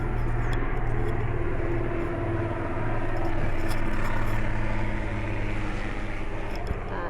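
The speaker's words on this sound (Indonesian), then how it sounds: "Ada helikopter." A continuous low engine drone with a rhythmic rotor-like thrum hangs overhead, steady and fairly loud throughout.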